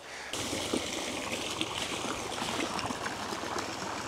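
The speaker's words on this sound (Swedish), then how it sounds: "den är riktigt trevlig att lyssna på den där fontänen" An outdoor fountain sends out a steady, full rush of flowing and splashing water, constant and fairly close, with no voices.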